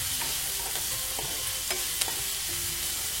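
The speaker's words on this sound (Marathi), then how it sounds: "आता तेलामध्ये छान आपल्याला थोडंसं फ्राय करून घ्यायचंय." Carrots and beans fry in hot oil, a dense continuous sizzle close up with faint scraping and stirring clicks scattered through it.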